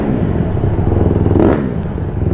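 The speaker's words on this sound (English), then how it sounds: "let's see what the bike sounds like in here." A Honda CRF150RB dirt bike engine runs steadily and close up while being ridden, giving a continuous buzzing drone with a slight rise partway through and no talking.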